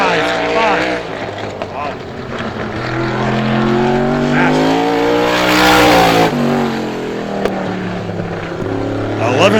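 Supermodified race car on a time-trial lap at Star Speedway, its engine a loud sustained high-pitched drone with rising and falling harmonics, passing near with a swell mid-lap, while an announcer talks over it throughout.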